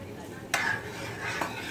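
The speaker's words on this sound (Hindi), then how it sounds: "अच्छे से मिक्सअप करते हुए" Paneer pulao is stirred in a pan, two short scraping strokes of a utensil against metal over a soft background sizzle.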